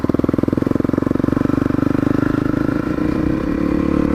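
A Honda CRF 250L trail bike chugs through mud off-road, its engine giving a loud, close, pulsing beat at low revs that stays steady, then softens and roughens slightly toward the end.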